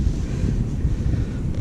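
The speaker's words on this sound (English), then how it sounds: "super windy." Strong wind buffets the microphone beside a flooded river, a loud, continuous low rumble with no pauses.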